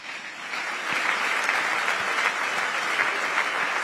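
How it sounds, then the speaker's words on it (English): Sustained applause from an awards-ceremony audience honouring the chairperson at a WAEC distinction awards event in Ghana, a dense, steady wash of many hands clapping at close range without talk. "Can we sustain the clap for our chairperson for this morning's August gathering?"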